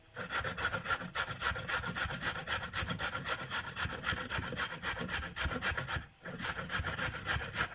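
Carrots, about 200 grams, are grated by hand on a grater. The close, steady rasping strokes repeat rhythmically for several seconds, with one short break, and no one speaks.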